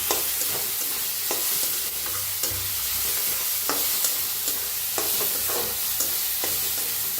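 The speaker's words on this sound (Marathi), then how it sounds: "थोडस टाकूया हिंग, चांगलं असं भाजून घ्यायचे तेलात" Asafoetida frying in hot oil with onions in a pan: a steady, close sizzle with scattered spoon-stirring clicks and scrapes, no voices.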